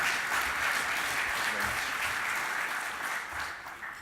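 Steady applause from a conference audience welcoming a speaker to the stage, a full room clapping continuously and fairly loudly before tapering slightly at the end.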